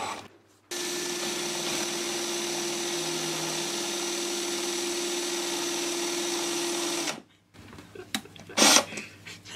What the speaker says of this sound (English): I'm going to stick a drill on it